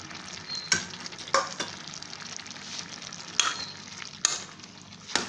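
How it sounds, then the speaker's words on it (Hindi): Fenugreek leaves stirred into cooked chana dal in a pan: a low simmering sizzle with several sharp clacks of the spoon against the pan at irregular intervals. "अब इसमें हम ये मेथी की भाजी डाल रहे हैं।"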